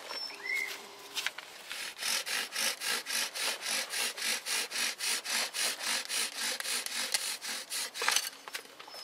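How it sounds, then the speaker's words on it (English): Rhythmic, steady strokes of a blade or rasp shaping the socket end of a wooden bow drill spindle, about twenty even back-and-forth scrapes close by, with quieter handling before and after. "I think now is the time to sharpen up the spindle or the socket end"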